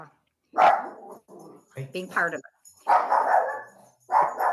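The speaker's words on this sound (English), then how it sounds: "I'm sorry, that's my dog. Somebody's excited." A pet dog barks excitedly at home during a snow day, a few loud bursts mixed with yips, interrupting and overlapping someone speaking nearby.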